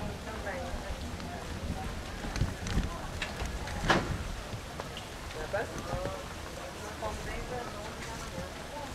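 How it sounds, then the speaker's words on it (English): Steady tropical rain pouring during an outdoor photo shoot amid graffiti-covered streets, a dense continuous hiss of drops and running water filling the whole stretch, fairly close and even in loudness. "the tropical rain and there was water coming from everywhere"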